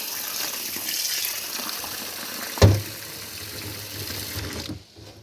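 Tap water gushing into a bowl to soak lentils and bulgur, a steady close rushing pour that swells briefly before the flow cuts off near the end.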